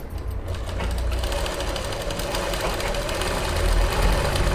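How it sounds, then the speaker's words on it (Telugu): A sewing machine runs continuously at close range, a loud, fast mechanical whirring and knocking as it double-stitches fabric, with no talking. "మళ్ళీ దీన్ని డబుల్ స్టిచ్ చేసుకోండి"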